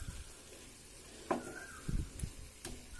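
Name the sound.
stirring fried brinjal into onion masala mixture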